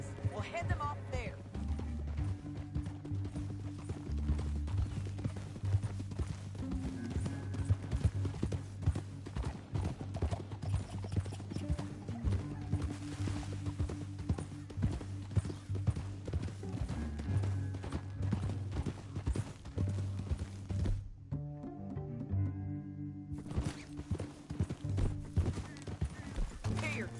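Horse hooves clip-clopping in the video game Red Dead Redemption 2: a steady, quiet trot running under near-constant character dialogue and background score.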